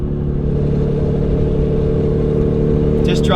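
A Lexus 1JZ engine cruising steadily in fourth gear at about 40 mph gives a loud, continuous low drone with a constant hum and no revving.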